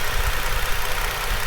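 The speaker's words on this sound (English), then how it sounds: "It's just a slight more tick than a normal Commodore." Holden VZ Commodore Police Pack engine idling steadily at close range, a continuous low rumble with a faint ticking texture running through it, no voices.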